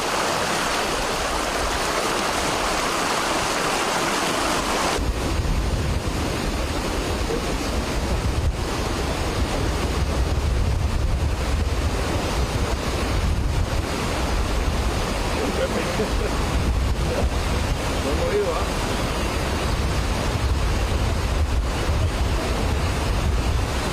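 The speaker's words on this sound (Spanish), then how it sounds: "Así de fácil y rápido cambia el cauce del río Desagüe en Bajos del Toro de Sarchí" Loud, continuous roar of the rushing Desagüe river current in Bajos del Toro, Sarchí, as its channel suddenly changes; dense broadband water noise with wind buffeting on the microphone, close and unbroken throughout.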